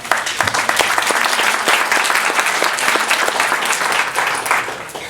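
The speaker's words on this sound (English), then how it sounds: "Big round of applause for Mayor Keller." Audience at a Sister Cities International summer leadership meeting in Santa Fe, New Mexico, applauds for a mayor, a loud, dense, steady clapping that fills the room without pause, with little voice over it.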